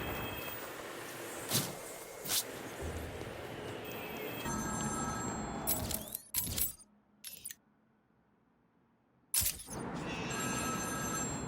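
Ringing phone in the Batman: Arkham City video game, a jangling bell-like ring that comes in repeated bursts over busy game sound, cutting off into near silence before the ambience returns.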